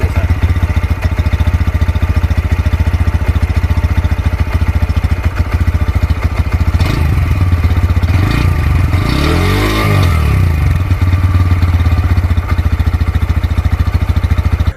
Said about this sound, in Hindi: और इसका जो वो है साउंड वो कुछ ऐसा है।